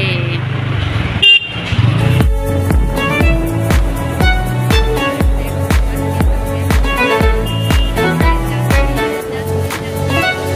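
Vehicles crowd across a railway crossing with repeated car horns sounding in a steady, rhythmic series of toots over engine noise, loud and close.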